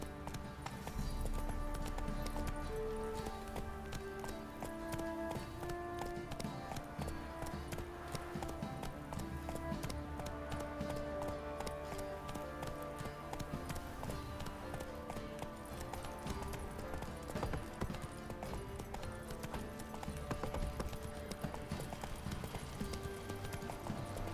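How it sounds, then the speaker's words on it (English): Horse hooves clip-clop steadily and quickly in The Witcher 3, a soft, even rhythm of hoofbeats running under quiet game music throughout. "Time to water the horses."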